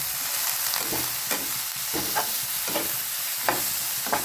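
Tomatoes and potatoes frying in a pan for a green bean (farasbi) vegetable dish, with a steady sizzle under repeated scraping stirs of a spoon at irregular intervals, close up.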